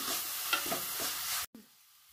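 Onions with salt sauté in a pan, a close, soft frying sizzle under repeated stirring scrapes, cut off suddenly and followed by near silence.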